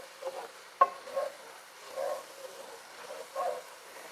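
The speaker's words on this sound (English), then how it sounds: "now I'm going to start whisking in my broth" A whisk stirring broth into a flour roux in a pot for a white bean, chicken and green chili stew, giving soft sizzling swishes and a small metallic clink, quiet and close.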